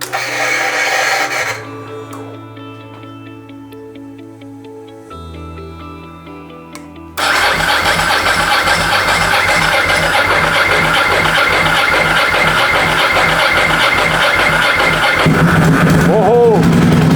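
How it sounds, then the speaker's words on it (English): A custom 2008 Ducati Monster S2R 1000 motorcycle engine starting for its first fire-up: cranking and hesitant firing, then the engine catches into a loud, steady, throbbing idle that runs on up close. "First fire up, it's got to warm up."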